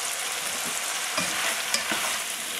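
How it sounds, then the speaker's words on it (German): Sauce is stirred into a pan of chicken and peas, a dense continuous sizzle with light scraping stir sounds and a few small clicks, no talk. "So, jetzt unterrühren."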